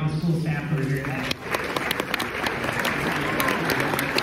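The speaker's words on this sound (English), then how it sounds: "So really just a round of applause for all the school staff who are here today." A round of applause for school staff at a university event, clapping swelling after a brief voice at the start and continuing as dense, steady crowd clapping.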